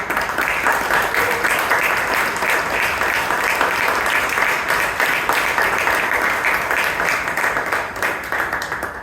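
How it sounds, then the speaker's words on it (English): Sustained audience applause at a Toastmasters club anniversary meeting, a dense steady wash of many hands clapping that holds evenly for the full stretch with no pauses. "Can we have a big round of applause for him?"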